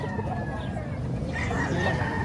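Roosters crow and chickens cluck amid the chatter of a busy poultry market in Padre Garcia, Batangas, a drawn-out crow rising above steady crowd babble and scattered voices.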